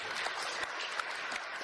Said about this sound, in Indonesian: Tepuk tangan dulu Pak Gembala